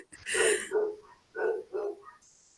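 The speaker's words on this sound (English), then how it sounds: "Need to see what my dogs are barking at" Dogs barking close by indoors, a handful of loud separate barks in an uneven burst with short pauses between them.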